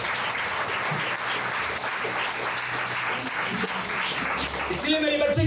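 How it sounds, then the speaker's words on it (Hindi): A congregation at an Easter church service claps steadily and densely for several seconds, with a voice speaking over it near the end. "ताली बजा, ताली बजा,"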